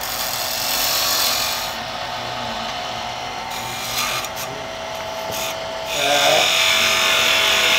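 Wood turning cut on a lathe with a gouge point rocked into the piece, a steady scraping, rasping hiss over the lathe's hum, close and continuous with slight swells.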